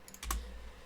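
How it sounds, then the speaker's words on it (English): Computer keyboard typing during a gaming voice chat: a few quick key clicks followed by a louder cluster of keystrokes, close to the microphone and alone without talk. "I am typing. Sorry, it's loud."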